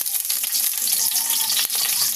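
Onions fry in hot oil, giving a loud, continuous close-up hiss and crackle with steady, bright sizzling throughout.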